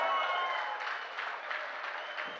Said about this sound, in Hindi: कितने लोग सुनना चाहते हैं बताना मुझे, तालियां बजाकर, तालियां।